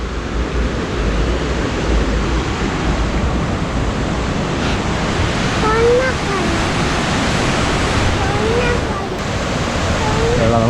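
Steady, loud broadband rush of flowing water near a waterfall on a hill trail in Munnar, Kerala, filling the whole stretch without a break, with a few faint whistling bird calls above it.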